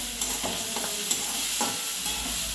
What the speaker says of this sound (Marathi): ह्याला आपण छान भाजून घेऊया आणि मग हळद टाकूया